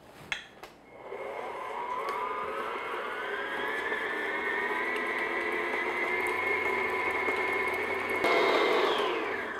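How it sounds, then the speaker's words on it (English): An electric mixer beats butter and sugar on medium speed, a steady whirring motor tone that starts after a couple of clicks, holds evenly, then rises slightly in pitch near the end, with no talking. "So now what I'm going to do is beat this on medium speed just to get everything mixed together"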